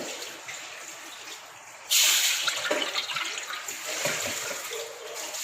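A sudden gush of two cups of water splashes into a heated wok, pouring steadily and loudly for several seconds after a quiet background hiss.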